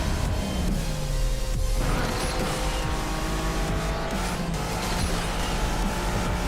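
A race car engine in the video game Asphalt 8 roars continuously, loud and steady, with shifting pitch and occasional tire squeals over constant road noise.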